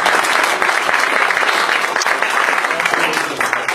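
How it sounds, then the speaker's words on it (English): Loud, dense applause from an amateur radio club meeting audience after a presentation, steady throughout and tapering slightly at the end. "One more round of applause."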